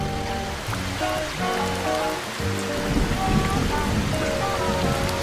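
Steady heavy rain with rumbling thunder in the video game Stick It To The Man, loud and continuous, building slightly toward the end under a light musical score.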